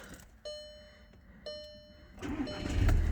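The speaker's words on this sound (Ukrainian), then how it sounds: "Автомобіль заводиться без проблем" A Volkswagen Passat B7 engine starts up. Two short beeps come first, then the engine cranks and catches into a rising, rumbling idle, all at low level and nearby.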